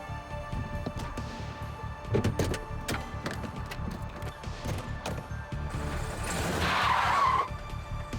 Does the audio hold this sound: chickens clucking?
no